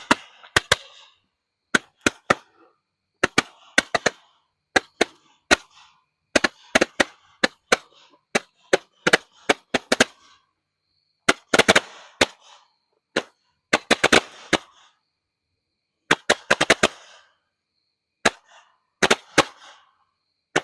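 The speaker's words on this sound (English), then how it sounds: "it's a Roman candle barrage style candle, so it should be a bunch of shots like that." A Roman candle barrage firework, set off from a milk crate of assorted fireworks, fires a long run of sharp, loud shots in irregular bursts, with near-silent gaps between the volleys.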